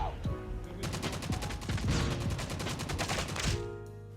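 Rapid automatic assault rifle fire in CoD Mobile, a dense, loud, steady stream of shots lasting several seconds, with game effects underneath and no talk.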